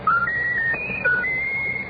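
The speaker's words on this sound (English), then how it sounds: "Ruffles, whistle your favorite tune" A pet bird whistles a short tune on command: a run of clear, pure whistled notes stepping up and down in pitch, close and steady, with no voices over it.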